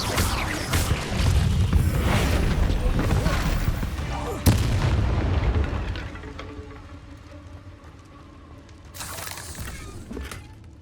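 An Incendio fire spell is cast in a cave in Hogwarts Legacy, giving a sudden sharp burst with a crackling whoosh over dense, loud game music and ambience, then a second flare near the end.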